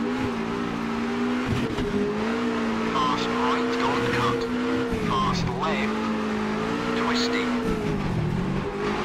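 A rally car on a gravel stage in Richard Burns Rally, driven cautiously with downshifts, gives a loud, continuous engine drone that rises and falls with revs and gear changes, with occasional tire scrabble, while someone talks over it.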